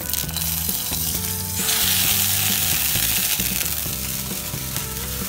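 A tempering of cinnamon and curry leaves sizzles hard in hot oil for mutton masala kanji, a loud, dense hiss that swells partway through over a stepped, tonal backing.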